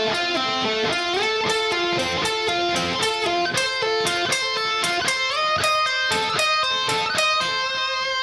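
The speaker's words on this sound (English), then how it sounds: "So the entire first arpeggio section should sound something like this." Electric guitar plays the fast arpeggio section of a solo, rapid picked notes cascading in a steady rhythmic stream, loud and alone.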